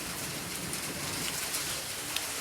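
Steady rain falls and patters on surfaces in a continuous, even hiss, moderately loud with no voices.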